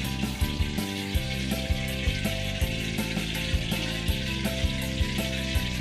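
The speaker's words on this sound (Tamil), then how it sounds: "இதில் நம்ம டிப் பண்ணி பொரிக்க போகிறோங்க" Continuous bubbling sizzle of batter-dipped egg pieces deep frying in hot oil for egg manchurian, with light periodic clicks and taps throughout.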